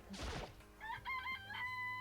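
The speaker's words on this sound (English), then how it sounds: "It's a chicken." A chicken in the Danganronpa video game lets out a short crow followed by a few clucks, loud and clear with no voices over it.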